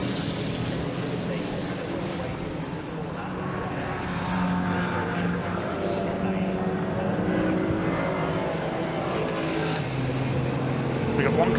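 A Caterham race car engine drones steadily in the distance at Silverstone, a continuous mechanical roar with muffled voices underneath.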